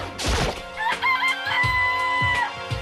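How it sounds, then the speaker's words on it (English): A rooster crowing in the video game Danganronpa, one loud, close, drawn-out cock-a-doodle-doo preceded by a short clucking burst. "That's a fucking rooster."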